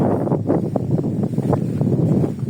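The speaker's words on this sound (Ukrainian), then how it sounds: "бачите, вітер сумасшедший." Strong wind buffets the microphone in a steady, rumbling roar with gusty surges throughout.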